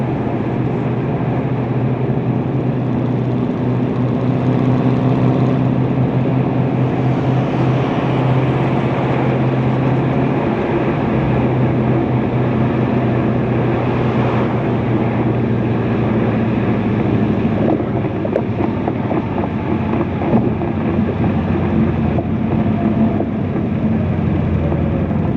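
A 2024 Ford Mustang Dark Horse with its 500 hp Coyote V8 drones steadily while driving, a continuous, loud engine and exhaust rumble heard from inside the car with little change in level throughout.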